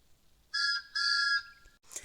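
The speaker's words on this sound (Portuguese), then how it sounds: "um apito bem barulhento" A loud steam locomotive whistle from a fan-made Thomas episode gives two shrill, steady blasts, each about half a second long, followed by a short, fainter sound.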